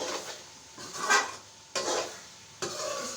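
A spoon scrapes and stirs grated carrot halwa roasting in desi ghee with cardamom in a pot, giving a soft sizzle with rhythmic scraping strokes at moderate volume.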